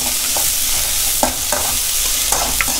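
Onions sautéing in oil for Tamil anchovy curry (nethili kuzhambu), a steady close hiss of frying with a few sharper scraping stirs breaking through, and no talk.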